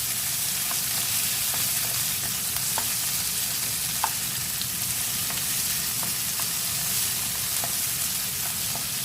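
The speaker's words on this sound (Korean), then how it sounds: "파프리카도 그렇게 오래 볶을 필요는 없어요." Paprika being stir-fried in a pan for japchae sizzles loudly and continuously, with light scattered clicks of the utensil against the pan throughout.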